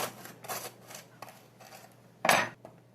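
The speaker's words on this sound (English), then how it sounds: "So I'm going to butter my bread." A knife scrapes and spreads vegan butter across toasted sourdough bread in a series of short, dry, rasping strokes close up, with one louder scrape near the end.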